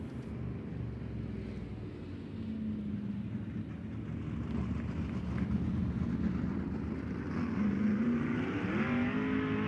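A race car laps a speedway during qualifying with a continuous engine roar that swells and rises in pitch toward the end, distant and steady.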